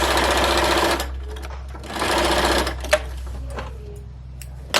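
A sewing machine stitches a French seam on a simple drawstring bag, two close bursts of fast whirring stitching about a second each, separated by brief pauses with small clicks and handling.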